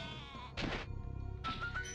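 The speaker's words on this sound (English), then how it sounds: "So, yeah, Toasty apparently is this sheep on stilts." A sheep walking on stilts in Spyro the Dragon bleats twice, each a loud, wavering cry, over quiet game music.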